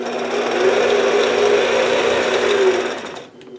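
A sewing machine stitches along a quilting ruler in a steady, fast mechanical whir that holds for about three seconds before stopping abruptly, close and unaccompanied by talk.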